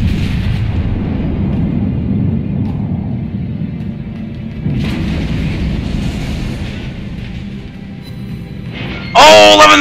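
Warship guns firing a salvo in a naval video game, heard as heavy rolling rumbles with a fresh deep boom around the middle, ending in a sudden loud burst of sharper noise.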